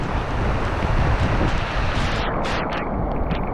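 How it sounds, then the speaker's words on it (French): Strong typhoon wind roars continuously in rural Japan, battering the microphone with loud, dense rushing noise and gusts, with faint hissing flurries standing out near the end. "Waouh, le vent est fort."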